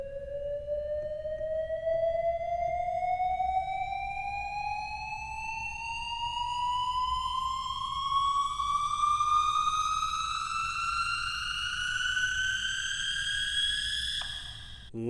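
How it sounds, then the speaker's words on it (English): A big synth effects riser from electronic sound design climbs slowly in pitch as a bright, harmonic-rich sweep, holding steady loudness for about fifteen seconds before cutting off with a short burst. "my big effects riser here"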